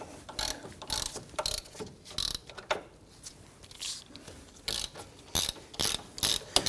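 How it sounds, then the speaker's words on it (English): Ratchet with a 17mm socket working loose the brake caliper bracket bolts on a 2011-2015 Kia Sorento, a close series of rapid clicking bursts separated by short pauses, loud and alone. "We're going to use our 17mm socket to go ahead and loosen these bolts."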